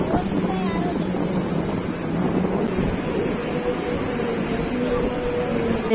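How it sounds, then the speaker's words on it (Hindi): Large sea waves rolling in at Dhev Sagar, a steady broad roar of surf mixed with heavy wind buffeting the microphone, loud and continuous throughout. "यहाँ पे बहुत बड़े बड़े से लहरें आ रहे थे"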